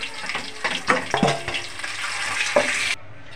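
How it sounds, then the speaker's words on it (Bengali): Pieces of hilsa fish fry lightly in hot oil, making a dense, close, continuous sizzle with a few sharper pops and spatters before it cuts off near the end. "মাছগুলোকে হালকা করে ভেজে নেব, খুব কড়া ভাজবো না।"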